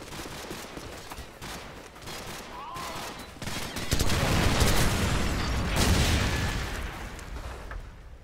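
Gunfire in Call of Duty 4: Modern Warfare, a dense fusillade of shots and blasts that swells louder midway and keeps rattling steadily near the listener.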